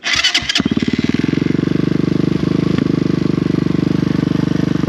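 CrossFire CFR250 stock budget dirt bike engine idling after a clattery start, a steady close single-cylinder thump with a fast even pulse and no speech.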